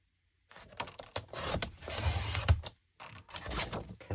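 A paper trimmer slicing through vintage paper sheets, with a few scraping, crunchy cutting strokes separated by short pauses, close and fairly quiet.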